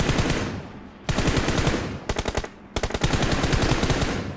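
Pistol gunfire in a mobile 1v1 team deathmatch shooter game: rapid, loud shots in fast bursts separated by brief pauses, with no talking.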